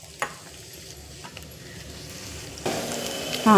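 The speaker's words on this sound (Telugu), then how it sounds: "నూనె వేడెక్కింది ఇందులో వేసేద్దాం ఇవి సన్నగా కొంచెం లో ఫ్లేమ్లో వేయించుకుందాం" Sliced onions and green chillies hit hot oil in a pan on low flame, a soft steady sizzle building with a sharper burst near the end, no voices.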